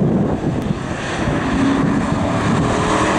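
A propeller-driven Mustang aircraft flies over a race circuit at Zandvoort, its engine drone loud and steady throughout, with some wind buffeting on the microphone.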